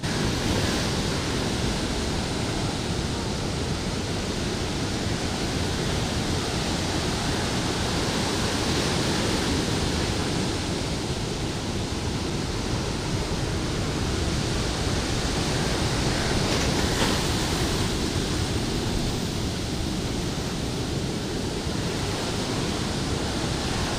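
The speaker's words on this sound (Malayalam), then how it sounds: "കൂറ്റൻ തിരമാലകൾ കരയിലേക്ക് ആഞ്ഞു പതിക്കുകയാണ്" A constant heavy roar of surf as large waves break and wash ashore during sea erosion on the Tanur coast, loud and unbroken, with no voices.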